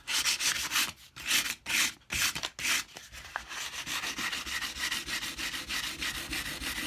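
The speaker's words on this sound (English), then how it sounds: "get yourself some of this 320 grit sandpaper, and then just polish the ends" Ends of a wooden cigar box guitar part are rubbed with 320 grit sandpaper in quick, rhythmic scratchy strokes, close and fairly loud at first, then becoming a steadier continuous rubbing, with no talk.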